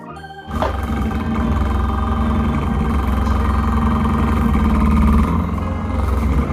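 Motor of a remote-controlled camping tarp fan running, a loud steady mechanical whir with tonal hum that kicks in abruptly after a brief quiet start and holds steady, no voices.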